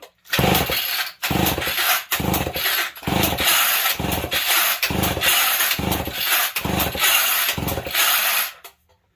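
Starter cord of a Homelite XL-12 chainsaw pulled about nine times in a steady rhythm with ignition off and throttle open for a compression test, each loud ratcheting whir of the recoil and engine turning over followed by a brief pause.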